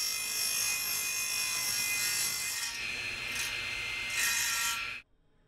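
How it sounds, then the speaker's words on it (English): A wooden speargun blank being trimmed to final size with a power saw, a loud continuous whining cut that holds steady for about five seconds, then stops abruptly into near silence. "go ahead and trim your blank to the final dimensions that you want it to be"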